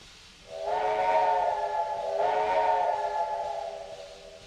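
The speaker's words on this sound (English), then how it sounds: "It's hard to distinguish the two whistles from one another because they're so close." Train whistle in the video game Trainz 2022 on a C&O line, two long chord-like blasts in close succession, the second trailing off slowly, heard alone over faint background hiss.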